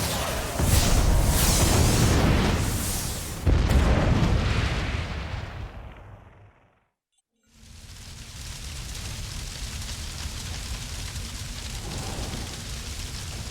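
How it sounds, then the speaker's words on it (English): Audiobook sound effect of wedding-day explosions or fireworks: heavy rumbling booms in two bursts, dying away to silence, then a lower continuous rumble returns. "Are there supposed to be fireworks before the wedding?"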